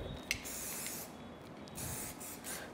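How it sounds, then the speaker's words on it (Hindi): Shine spray hisses in several short bursts onto braided hair during a peacock feather braid hairstyle, close and fairly steady, with no talking. "सो ये हमने शाइन स्प्रे किया"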